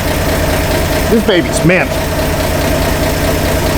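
A 1958 Ford F100 engine, freshly reinstalled, idles close by with a steady, lumpy rhythmic throb, while someone speaks briefly over it.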